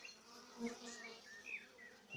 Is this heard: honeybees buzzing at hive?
yes